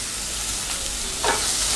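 Capsicum sautéing in a pan for restaurant-style chilli chicken gives a steady, soft sizzle throughout, with a brief stirring scrape near the end and no talk.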